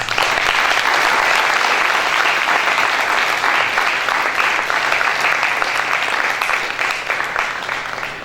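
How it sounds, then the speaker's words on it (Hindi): Loud, sustained applause fills a hall after youth presentations at a youth gathering, with many hands clapping in a continuous wash that fades slightly toward the end. "तो सबके लिए तालियां हो जाए।"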